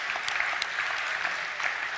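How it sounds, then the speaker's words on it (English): Hackathon closing-ceremony audience claps steadily, an even wash of applause at moderate volume with no talk over it. "let's first give them a round of applause"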